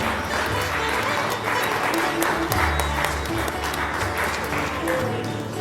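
Applause at a school alumni reunion held 47 years after graduation, steady and continuous clapping with crowd noise and voices mixed throughout, carrying on without a break.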